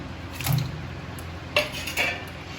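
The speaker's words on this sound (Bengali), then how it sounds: "এই বাটিটার মধ্যে আমি সবার প্রথমে এই চিংড়ি মাছগুলোকে দিয়ে দিচ্ছি" Prawns drop into an aluminium bowl with a few light metallic taps and clinks against quiet kitchen background.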